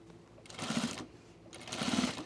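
A sewing machine sews a pants seam in two short bursts of whirring separated by a brief pause, close and fairly quiet.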